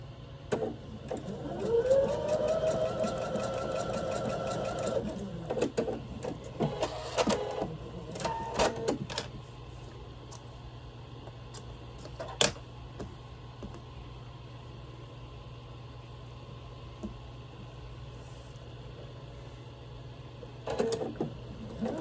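A sewing machine runs a straight stitch on quilt-block fabric in a short burst, followed by brief clicks and handling noises, then a long low hum with occasional taps.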